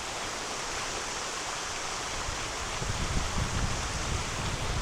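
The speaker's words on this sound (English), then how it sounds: "That's like one of the best waterfalls I've seen for ages." A large waterfall at a forest swimming hole pours steadily, a dense broadband roar of rushing water that swells slightly louder toward the end, with no voices.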